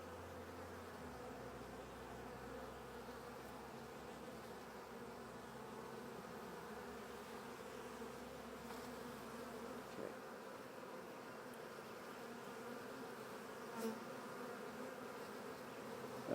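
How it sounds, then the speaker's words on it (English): Honeybees buzzing around hive frames while a new queen is installed, a continuous dense hum of many insects close by, steady and fairly quiet throughout with no talking. "And yes, there's bees on my fingers"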